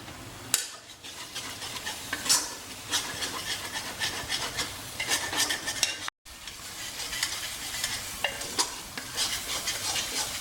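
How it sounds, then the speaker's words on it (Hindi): Steady sizzling of garlic-coriander and poppy seed paste frying in a hot pan with repeated scraping and stirring strokes throughout, a brief pause midway, no talking. "धनिया का पेस्ट और खसखस का पेस्ट डाल दिया है हमने और इसको बढ़िया भून लिया है"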